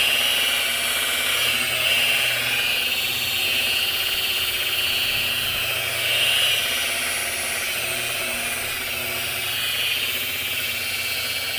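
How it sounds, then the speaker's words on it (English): A cheap Harbor Freight polisher with a cheap pad buffs the paint of a 1964 Chevy C-10 Stepside truck, producing a continuous, close motor whine with gentle swells in pitch and loudness and no talking. "This is a kind of a cheap polisher from Harbor Freight with a cheap pad on it."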